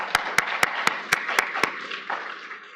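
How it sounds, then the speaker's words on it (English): Seven sharp, evenly spaced audience claps ring out over a soft background murmur at a health talk, then the clapping stops and faint room noise remains. "Let's give her a round of applause."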